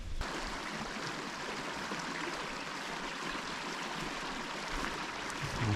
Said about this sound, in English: And then down this way we have the river.